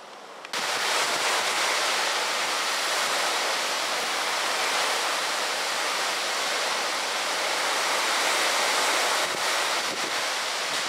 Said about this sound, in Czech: Tak tady jsou nějaké záběry z noční bouřky, kdy v naší oblasti padaly stromy a na Moravě bylo tornádo.